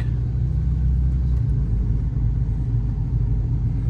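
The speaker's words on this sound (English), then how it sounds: "So here we are at the wheel of the 996 Millennium, pulling out of the garage here." A 2000 Porsche 911 996 Millennium Edition pulls out of a garage, its engine a steady, loud low rumble heard from inside the car without any sharp revs.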